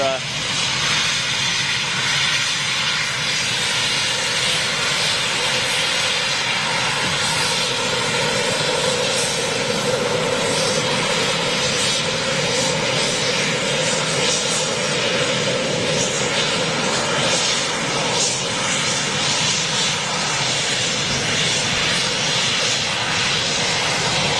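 Eurofighter Typhoon jets at RAF Coningsby produce a steady, loud engine roar that holds without a break for the whole stretch and is heard alone.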